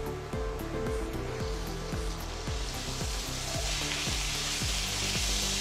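Fish sizzling and spitting steadily in hot oil in a pan while cooking a mince dum biryani, a continuous close crackle with rhythmic stirring or scraping strokes throughout.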